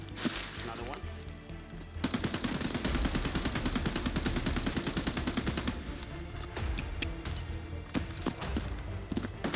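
Rapid automatic gunfire in the shooter game Escape from Tarkov, a dense, sustained burst of loud cracking shots followed by scattered, more spaced shots near the end.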